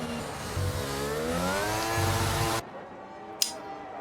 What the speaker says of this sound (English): You can hear that engine of Dodge is getting quite a big workout.